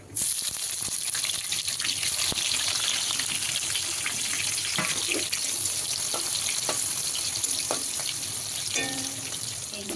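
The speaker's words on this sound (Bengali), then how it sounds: "এখানে পেঁয়াজটা ভাজা হয়ে গেছে" Onions fry in hot oil with bay leaves and whole spices, giving a loud, steady, close sizzle with occasional clinks and stirring scrapes, and no voices.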